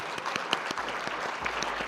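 A round of applause from an audience for debaters at a podcast event, close crisp claps over a steady wash of many hands, fairly loud and continuous.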